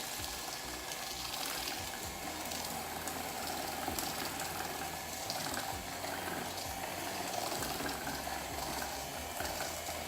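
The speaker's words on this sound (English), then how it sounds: "We're gonna get my mixer and we're going to beat at low speed until it's well mixed." Electric mixer beating lemon bar filling at low speed, a steady close whirring drone with faint rattling that runs unbroken from start to finish.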